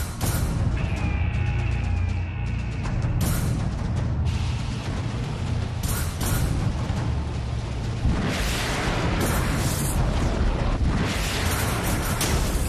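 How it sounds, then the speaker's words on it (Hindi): A North Korean heavy long-range missile launches with a loud, sustained roar that fills the whole stretch, broken by sharp bursts and swells of rumbling blast. "किम जोंग ने हाल ही में 6200 किलोमीटर तक मार करने वाली अपनी भारी भरकम मिसाइल"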